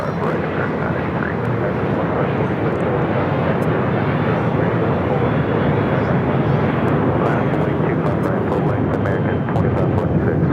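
An American Airlines jet takes off from runway 25 right at LAX, its engines giving a loud, continuous roar that holds steady throughout, with faint radio chatter underneath.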